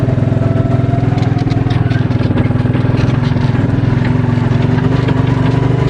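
A 2001 Suzuki King Quad 300 ATV runs slowly in second gear, its engine putting out a loud, steady, rhythmic chugging drone close by.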